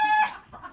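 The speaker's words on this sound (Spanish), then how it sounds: "Pues ahorita acaba de poner una gallina y está tan escandalosa." A hen on a Guatemalan farm clucks noisily just after laying an egg, giving a loud close squawk followed by softer clucks.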